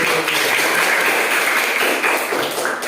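Students in a classroom clap for a group that has just presented, giving a short, steady patter of many hands clapping together at close range and fairly loud.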